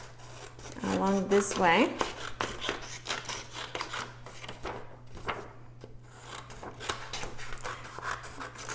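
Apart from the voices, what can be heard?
cutting paper sight word cards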